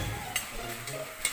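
Chicken sautéing in a pan for a home-style gisado, a soft continuous sizzle with a few brief scraping stirs of a utensil, close and fairly quiet.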